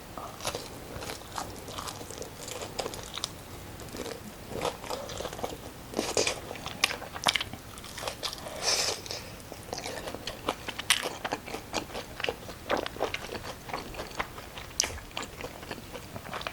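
Close, crisp eating sounds of spicy tteokbokki with added glass noodles and honey combo fried chicken: repeated crunchy bites and wet chewing in an irregular rhythm, with no talking.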